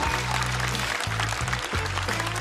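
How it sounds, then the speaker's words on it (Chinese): Audience applause at a stand-up comedy show: a dense, steady wash of clapping throughout, with a low tonal hum or music underneath. "掌声送给"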